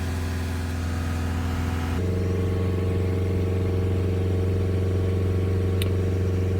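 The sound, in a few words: Land Rover Discovery Sport engine held near 3,000 rpm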